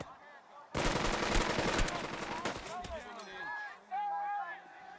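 Rapid machine-gun fire rattles out in the Burden of Command wartime game set at Anzio, a dense, loud burst lasting a couple of seconds before thinning into scattered shots and fainter battlefield sounds.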